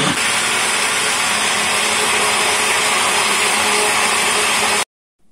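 A kitchen blender whirs loudly and continuously, mixing jabuticaba mousse with gelatin, a dense steady motor roar that cuts off abruptly near the end.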